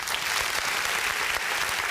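A short, steady burst of clapping from a small group, fairly close and even in texture throughout, with no voices over it.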